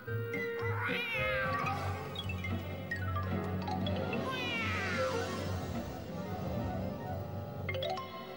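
A voice imitates a cat, giving several drawn-out, rising and falling meows and yowls in sequence, clear and close, over faint background music.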